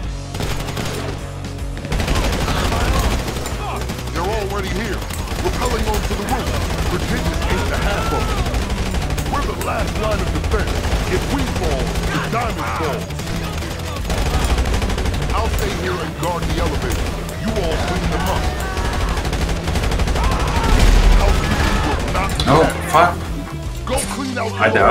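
Rapid automatic gunfire and scattered shots from a GTA Online firefight run almost continuously in loud, dense bursts, with people talking over the shooting throughout.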